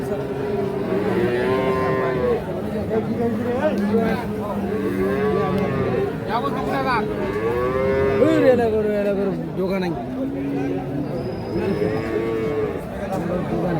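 Holstein Friesian dairy cows lowing at a cattle market, with repeated long, loud moos close by over a faint background of crowd chatter.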